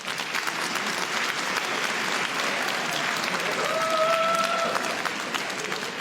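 Audience clapping at a stand-up comedy show about snoring partners, a dense, steady wash of many hands throughout, with a brief whoop or whistle rising near the end.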